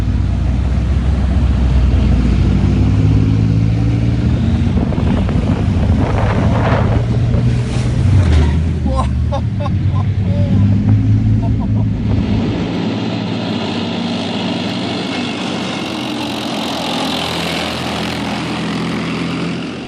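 A military tank engine runs loud and close, a heavy low roar with a rising, revving swell midway, buffeted by wind noise, then settling to a steadier, lighter drone.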